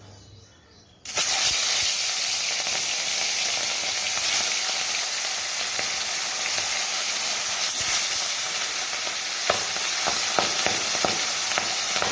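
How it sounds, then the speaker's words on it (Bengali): Fish frying in hot oil in a kadai for a Bengali fish-and-potato curry: a loud, steady sizzle and hiss that bursts in after a quiet second and continues for the rest, with scattered sharper crackles and pops. "মাছগুলো আস্তে আস্তে সব ভেজে নিচ্ছি"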